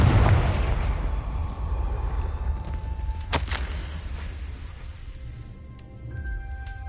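Confringo fire spell explosion in Hogwarts Legacy, a loud booming burst at the start that decays into a long rumbling tail, with a sharp crack midway and faint chiming game sounds near the end.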